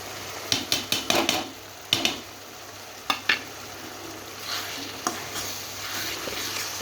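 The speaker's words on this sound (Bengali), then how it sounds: "ভালোভাবে কষিয়ে নিব।" Ground spices with coriander powder and small cardamom pods sizzle in a pan while a spatula scrapes and knocks against the metal in sharp clusters, close and fairly loud over a constant frying hiss.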